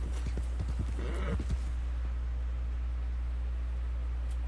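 Hooves of a wild mustang in Red Dead Redemption 2 clip-clop in a quick irregular patter during the first second and a half, then give way to a low steady ambient hum.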